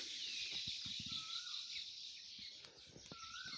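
Birds chirp in a mango orchard, faint thin whistled calls and short chirps at a distance over a soft airy background hiss.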